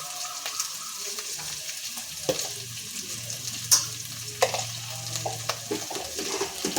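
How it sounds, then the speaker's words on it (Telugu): Green chillies and curry leaves frying in a pan, a low crackling sizzle broken by sharp spoon-against-pan scrapes and taps as they are stirred, with no voices. "ఇందులో మనం కొంచెం పచ్చిమిరపకాయలు, కరివేపాకు వేసుకొని ఇలా తిప్పుకోవాలి"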